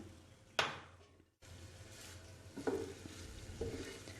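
Garlic sizzles and fries in hot oil in a pan for masala pulao, a steady crackling hiss broken by a sharp clatter near the start and a few louder stirring scrapes later on.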